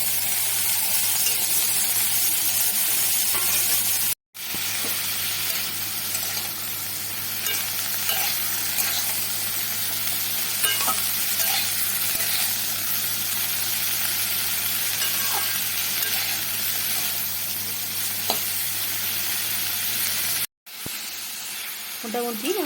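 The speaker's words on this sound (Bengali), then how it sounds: "সব দিয়ে ভালো করে ভাজা ভাজা করে নেব।" Mashed fig with turmeric and salt fries in a pan, a steady close hiss of sizzling with occasional stirring scrapes, running on without talk apart from two brief cuts.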